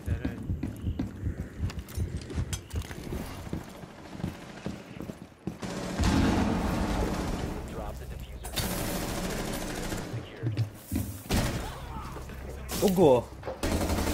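Rapid video game gunfire bursts, loud and repeated, with bursts running through most of the span while players talk over the shooting.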